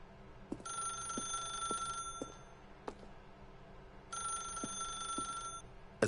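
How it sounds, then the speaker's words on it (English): A telephone in The Stanley Parable video game rings in two long electronic bursts with a pause between them, loud and clear over a quiet background with a few faint clicks. "then pick up the phone."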